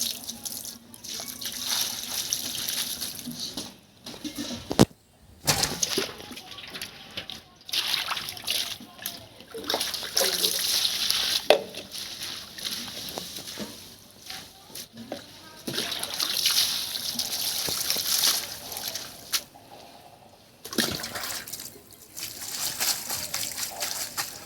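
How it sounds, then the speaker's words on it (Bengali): Leafy greens are washed under a running kitchen tap, with water splashing and trickling over the leaves in uneven bursts and brief pauses. Someone speaks over the washing in Bengali. "তো বন্ধুরা শাকটা ধুতে আমি চলে এসেছি।"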